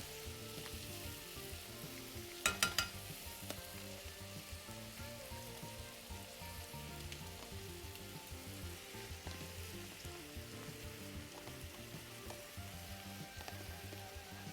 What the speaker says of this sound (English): now I'm gonna throw my shrimp in it